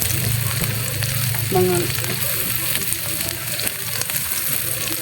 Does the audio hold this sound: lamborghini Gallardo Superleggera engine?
no